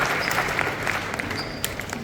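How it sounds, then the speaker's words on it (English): A conference audience applauds, with steady dense clapping from a crowd filling a large hall and a few louder claps standing out. "Let's give them a round of applause, everybody."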